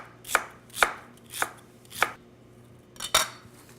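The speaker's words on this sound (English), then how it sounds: "I'm just going to chop this fennel frond pile up." A kitchen knife chops through fennel fronds on a cutting board for a shrimp salad, making five sharp, evenly spaced knocks, close and clear, with no talking.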